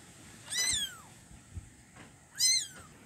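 A small kitten meows twice, clear and fairly close, with a pause between the high, rising-and-falling cries against a quiet room.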